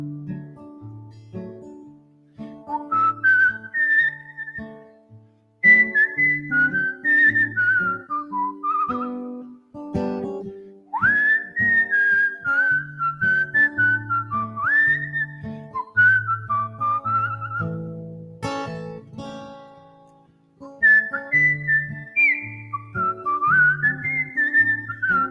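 A live whistled melody during a folk song performance at a winter music festival, clear sustained phrases with slides and short pauses, over soft low accompaniment and no speech.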